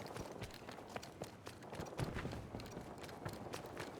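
In Battlefield 2042, enemy footsteps patter in a quick, uneven run of soft impacts. They are faint and somewhat distant, set in a low wash of game ambience, with no talking.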